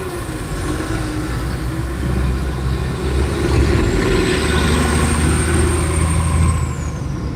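Steady, loud road traffic with rumbling truck and car engines passing nearby, a continuous drone with a high whine sweeping briefly across the middle.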